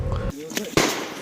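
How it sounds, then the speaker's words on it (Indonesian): Sharp gunfire in a forest, two loud cracking bursts with a short gap between them, heard over a low rumbling background. "Dentuman senjata memecah kesunyian hutan"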